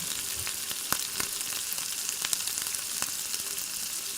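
Panch phoron spices sizzle and crackle in hot oil in a pan, a steady frying hiss scattered with sharp little pops from the seeds, close and without talk.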